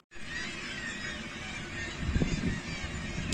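Geese honking around old islands and rocky shores on the Irish coast, heard from a sailing boat, a steady outdoor wash with a few distinct honks rising near the end.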